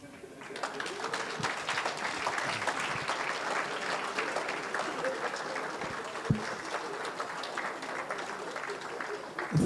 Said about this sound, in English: Please could all those who are under 30 stand up as the chief guests receive applause from all the old people in the room.